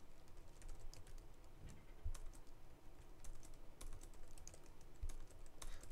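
Typing on a computer keyboard, faint scattered key taps at an irregular pace over a low background hiss.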